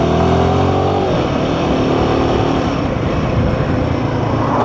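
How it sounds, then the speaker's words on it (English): A Royal Enfield Himalayan 450 single-cylinder motorcycle engine pulls away from low revs in third gear up a hill, a loud continuous throbbing drone that builds and holds steady with wind rush and no talk. "Single cylinder engine, and that's third gear, pull away from low revs, and that pulled up the hill very nicely."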